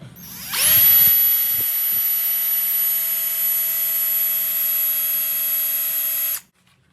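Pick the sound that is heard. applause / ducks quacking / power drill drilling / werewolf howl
power drill drilling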